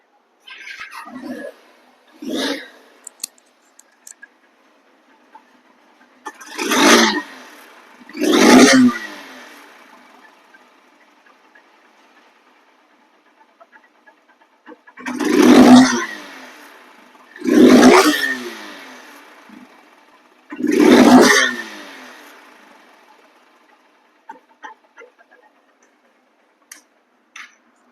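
A second-hand Hornet double-disc motorcycle engine gives six loud revving bursts in two groups, each rising and falling sharply, with near-silent idle gaps between them.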